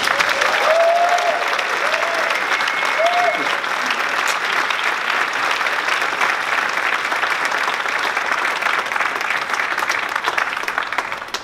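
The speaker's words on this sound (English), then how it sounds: "let's give him a big round of applause" An audience applauds to welcome speaker Gil Penalosa at an evening talk on sustainable mobility: loud, dense, sustained clapping from a crowd fills the whole stretch, with a brief voice near the start.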